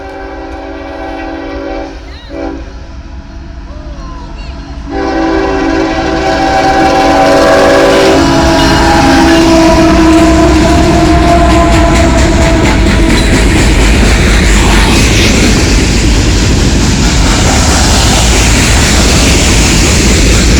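A CSX freight train passes at a grade crossing on Cooper Avenue, its horn sounding early before a loud, sustained roar of rolling wheels and cars builds and dominates the rest of the clip.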